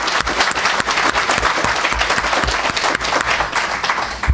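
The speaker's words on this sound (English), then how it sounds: "let's give him a round of applause." Dense audience applause at a formal gathering honoring a human rights advocate, steady loud clapping from many hands filling the whole stretch without pause.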